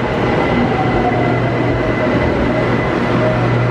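The Bangkok Skytrain pulls into a station with a loud, steady rumble of wheels on elevated rails, close and continuous, with faint squealing tones.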